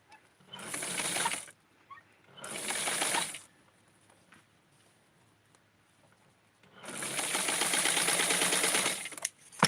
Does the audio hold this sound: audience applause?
no